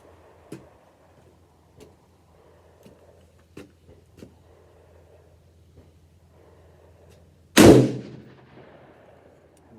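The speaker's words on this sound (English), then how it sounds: "Brand new gun, súng mới càng luôn. Bắn là bốc khói luôn." A single loud, sharp AR-15 rifle gunshot cracks out of a fairly quiet outdoor scene, preceded by faint scattered ticks and clicks and followed by a brief decaying echo.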